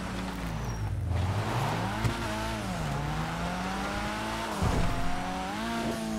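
A car in GTA Online races up a ramp and launches into the air, its engine droning steadily with pitch rising and falling through the jump, loud and continuous with no talk.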